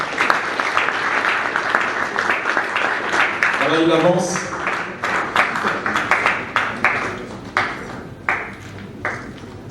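Scattered hand clapping from an audience at an evening awards ceremony as an honoree is called up, sharp claps rising around the middle, then thinning into sparse, fading claps, with someone talking over the start.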